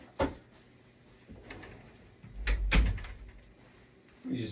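A large box holding a drum kit is pushed through a doorway, giving muffled thumps and scraping bumps, with a sharper knock at the start and a heavier rumbling shove near the end, fairly close in a quiet room.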